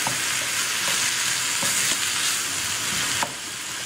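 Samosa filling sizzles steadily in a hot pan after a dash of salt, with a spoon stirring through it and giving soft scrapes and clicks over the constant frying hiss.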